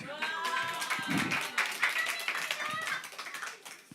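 A church congregation at a Sunday service breaks into applause, a brisk patter of hand claps that swells and then thins out, with a voice talking over it.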